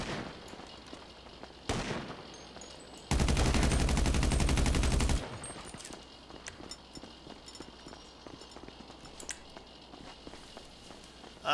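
Rapid automatic gunfire from a pink gun in GTA 5 Online sounds as one dense two-second burst, loud and continuous, after a single earlier shot, then footsteps and small game noises.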